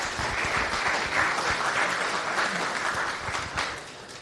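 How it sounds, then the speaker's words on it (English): Audience at a conference talk on GObject subclassing in Rust gives a steady round of applause, a close, dense wash of many hands clapping at even loudness for several seconds. "Round of applause."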